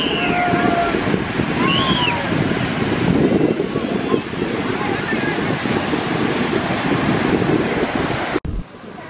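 Ocean waves washing onto a beach, a steady broad roar of surf with heavy wind buffeting the microphone throughout, with a brief abrupt dropout near the end.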